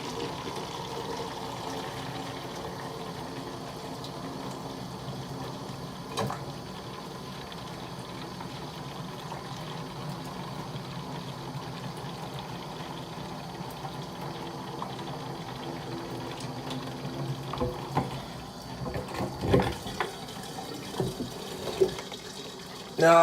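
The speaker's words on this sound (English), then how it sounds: "Now I filled the transferring jug up with a bunch of hot water up to like right there" Hot water runs steadily into a transferring jug for wine making, a continuous low pouring rush with faint clinks and a few louder bumps near the end.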